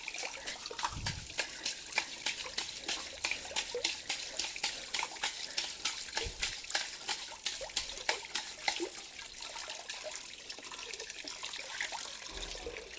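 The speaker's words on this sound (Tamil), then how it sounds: "தண்ணியை லைட்டாக திறந்து விட்டுட்டு இப்படி பண்ணிகிட்டே இருக்கணும்" Tap water flows steadily into a sink while parts of a Kuvings B1700 cold-pressed juicer are rinsed under it, a continuous close splashing with small clatters.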